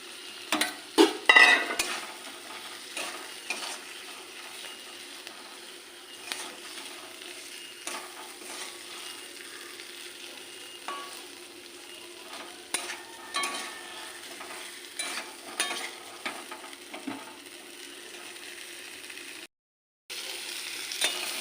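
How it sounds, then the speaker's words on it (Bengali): Taro pieces frying with spices in a pan for a hilsa curry, a continuous low sizzle with scattered stirring scrapes and utensil knocks, a brief cluster of louder clatter near the start and a short dropout near the end. "কচুগুলো একটু ভেজে নিচ্ছে মশলা দিয়ে, কষিয়ে নিচ্ছে"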